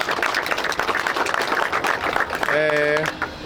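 Applause at an award ceremony for a spinning fishing competition on the Brda river in Bydgoszcz sounds as a steady patter of many hands, mixed with talk and a brief tonal beep near the end.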